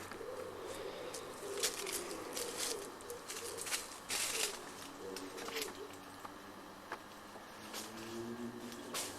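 Birds chirping and cooing outdoors, with scattered bright calls over a soft background of ambient noise.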